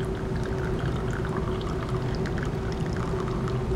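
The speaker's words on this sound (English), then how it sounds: "we're just going to pour the cabbage extract through the coffee filter" Red cabbage extract poured through a coffee filter, a steady continuous trickling and splashing of liquid with a faint tonal hum underneath, close and even throughout.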